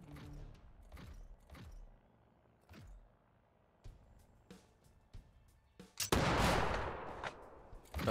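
Shotgun blasts in the tactics video game Kriegsfront Tactics: a series of sharp separate shots spaced about a second apart, then a louder, sustained burst of noisy gunfire near the end.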